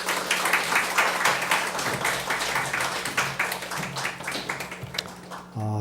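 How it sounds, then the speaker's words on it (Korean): A church congregation at a Thanksgiving Sunday service applauds to welcome the pastor, with sustained, crisp clapping from many hands that runs for several seconds before stopping abruptly. "나오실 때 우리 박수로 환영했으면 좋겠습니다."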